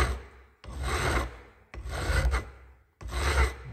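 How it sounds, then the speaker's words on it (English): A hand file rasps across an Akebono ACT1004 brake pad in three long, close strokes, each a gritty scraping sweep separated by brief pauses. "So I'm gonna continue filing."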